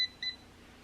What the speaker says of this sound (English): And I'm gonna wait for the beep.